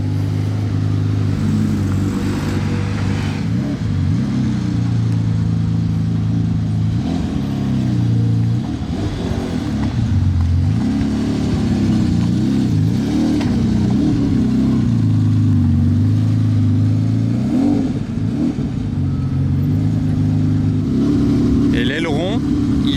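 A Bugatti sports car engine revs up and down, its deep, loud exhaust note rising and falling in repeated swells that carry on steadily and up close.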